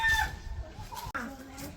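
Village farm chickens cluck softly at close range in short, scattered calls, with a sharp click partway through.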